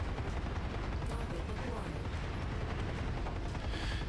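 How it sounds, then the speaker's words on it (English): Mech-mounted machine guns in MechWarrior 5 fire as a dense, continuous rattle of rapid shots, faint and steady throughout, with a voice speaking over it. "Okay, these machine guns..."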